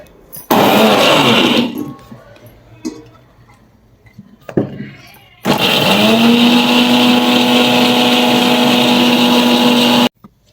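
A mixer grinder runs a chana masala paste in two loud, close bursts, the first about a second long and the second a sustained whine of nearly five seconds, with quiet handling noises between them.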